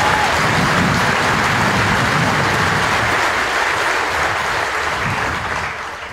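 At a Fort Jackson army graduation ceremony, a large audience claps for military families in a thick, continuous wash of applause that holds steady before gradually fading toward the end.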